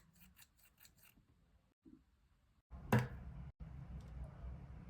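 Scissors cut yellow paper close by, with a few quick snips, then a louder crunching cut and soft rubbing paper sounds in a quiet room.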